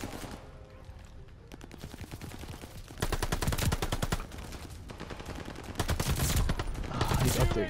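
Rapid automatic gunfire from Call of Duty Vanguard multiplayer, loud bursts of close machine-gun fire that grow denser and heavier toward the end, with brief quieter stretches between volleys.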